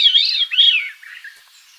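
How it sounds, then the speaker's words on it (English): A veery sings a brief, clear, swirling flute-like phrase of two descending spiraling notes followed by a fainter trailing note, heard alone and close. "So yes, this is the veery"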